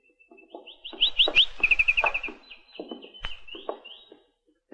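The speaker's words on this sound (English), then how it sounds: "Gee, with a canary bird." A canary sings in a bedroom, trilling and chirping in quick bright runs with brief pauses, close and clear over a faint background.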